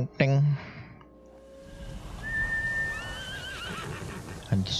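A horse in the video game Ghost of Tsushima gives a loud, clear whinny near the start, followed by quieter game ambience with a few whistling tones and another brief sound at the end.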